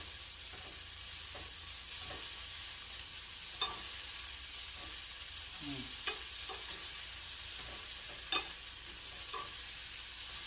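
Garlic and tomatoes sizzle in a pan with a steady, soft frying hiss, broken by occasional stirring scrapes and light clinks of a utensil, close by and without speech.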